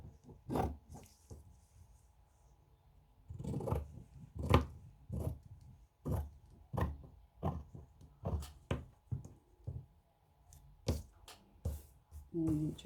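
Scissors snip through fabric while a small pillowcase for a doll's bedroom is trimmed, giving a series of short, close, crisp cuts spaced irregularly across the clip, with no talking.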